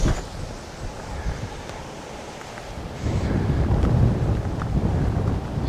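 Wind blowing across a golf course rumbles against the microphone as a steady buffeting roar that grows stronger halfway through, with no voices over it.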